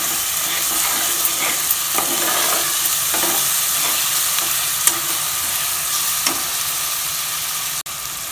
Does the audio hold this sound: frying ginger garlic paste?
yes